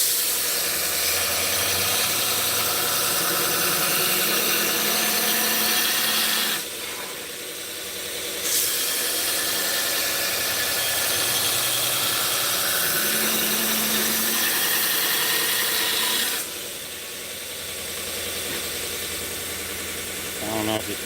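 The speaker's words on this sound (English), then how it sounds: "It takes longer as you go because you're grinding more metal off." An angle grinder wears metal away in a long, loud, steady whine with two short dips in level, and a voice talks faintly beneath the grinding.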